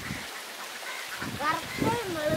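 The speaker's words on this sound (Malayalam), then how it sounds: "അതെ താറാവ്" Ducks in a Kuttanad paddy field quack and call at moderate distance in a short burst, with a person talking over them and a soft outdoor background.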